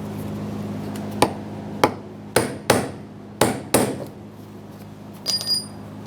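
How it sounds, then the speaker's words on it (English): A brass punch is struck with a hammer about eight times to turn the locking ring on the fuel tank of a 2013-2020 Ford Fusion 2.0L, giving sharp, close metallic taps at irregular intervals with a faint ringing tail. "For this, I'm using a brass punch because we do not want any sparks."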